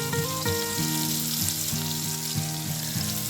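Chopped onion sizzles in hot oil tempered with nigella seeds and dried red chili, a loud, dense, continuous frying hiss with a steady tonal melody playing over it.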